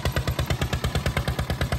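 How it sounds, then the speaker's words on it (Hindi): A single-cylinder air-cooled Mahindra tractor drives an 8-foot rotavator, its engine pounding in a fast, even chug of about seven beats per second, loud and close with no voices. "और भाई रोटावेटर देखिए पूरा धड़ल्ले से चला रहा है"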